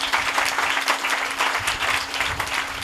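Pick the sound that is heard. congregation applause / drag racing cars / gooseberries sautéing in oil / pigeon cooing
congregation applause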